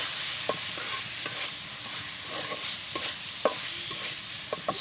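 A utensil stirs singara filling seasoned with cardamom powder in a pan, giving scattered scraping clicks over a constant frying hiss, close and fairly loud with no talk.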